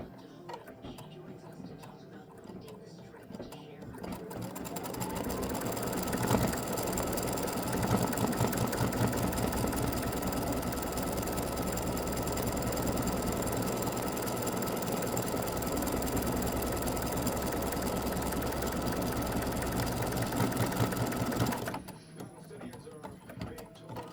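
An embroidery machine stitches a free-standing lace earring loop in black thread, a rapid mechanical clatter that starts after a few seconds, runs steadily and close, then stops near the end.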